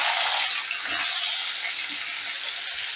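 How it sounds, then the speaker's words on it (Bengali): Pumpkin pieces sizzle steadily in hot oil in a pan, a loud, even crackling hiss that runs on without a break. "এবারে ওই তেলেই আমি কুমড়োগুলো ভেজে নেব।"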